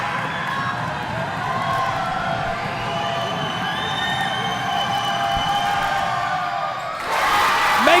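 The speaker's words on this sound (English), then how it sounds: "The crowd for Rio Hondo on the edge of their seat, making a lot of noise." A packed gym crowd at a Hidalgo vs. Rio Hondo district boys basketball game roars steadily during tense late-game free throws, with shouts and whoops woven through and a louder surge near the end.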